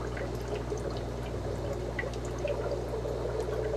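Air flows through opened air lines into the water of a brine shrimp hatchery, making a continuous soft bubbling and trickling wash with a low steady hum beneath, no talk.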